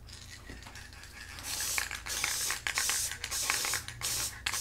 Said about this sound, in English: You just want to spray